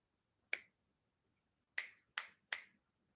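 Four sharp finger snaps, one alone and then three in quick succession after a pause, crisp and close in a quiet room.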